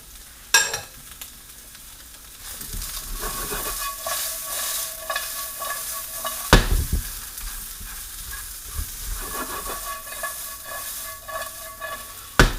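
Bacon bits sizzle in a pan with sautéed vegetables, a continuous close frying hiss broken by a few sharp clanks and stirring scrapes.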